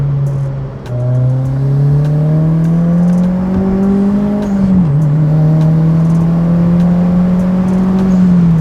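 A turbocharged Honda Fit engine drones steadily as it climbs a winding mountain road, the pitch rising gradually through the gears with a brief dip mid-run, loud and close from inside the cabin with no talking.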